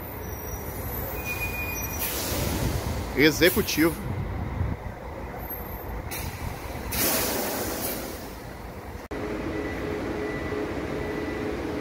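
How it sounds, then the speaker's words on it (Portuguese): A Cometa coach bus pulls into a platform at the Tietê bus station in São Paulo, with squealing brakes, a hiss of air and a steady engine rumble over the station's background hubbub, while someone talks. "E mais um carro da Cometa chegando aqui para o desembarque"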